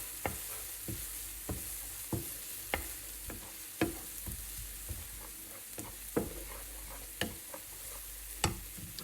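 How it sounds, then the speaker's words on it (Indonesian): Garlic stir-fried with meat and vegetables in a pan, giving a steady low sizzle broken by sharp clicks of a utensil scraping and tossing at irregular intervals, close and moderately quiet. "Nah, bawang putih masuk."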